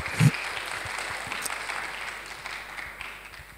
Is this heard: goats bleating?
no